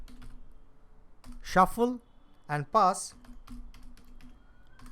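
Code being typed on a computer keyboard, a steady run of quick light key clicks throughout while a voice speaks briefly over them.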